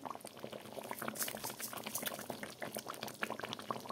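Thick chicken curry gravy boiling in a pot, a steady close bubbling with dense popping and plopping throughout, no voices.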